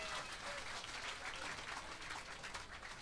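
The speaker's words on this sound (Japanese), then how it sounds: "もう一度最後にたくさんの拍手よろしく。" Loud, dense applause from a live audience fills the room without pause at a 1980 rock concert stage show at Lo-D Plaza.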